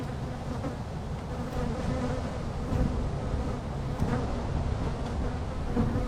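A dense swarm of honey bees buzzes steadily and close up, with a continuous droning hum and individual bees whining past the microphone.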